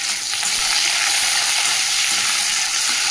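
Cumin seeds, bay leaf and chopped onion frying in hot oil, a steady, close, loud sizzle that holds unbroken throughout with no voices.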